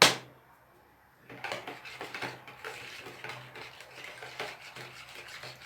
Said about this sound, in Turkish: iyice sosunu karıştırıyorum